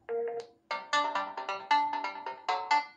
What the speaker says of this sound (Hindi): देखने को मिल जाएगा रिंगटोन यहाँ पर जो कि इसके साथ डिफ़ॉल्ट रिंगटोन आता है